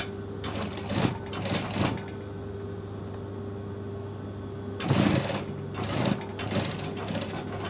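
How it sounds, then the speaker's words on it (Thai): A sewing machine with a standard presser foot stitches a zipper onto fabric in short, loud whirring bursts separated by pauses, with a steady low hum underneath. "แล้วก็เย็บเลยครับ"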